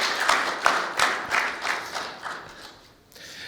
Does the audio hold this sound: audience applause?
yes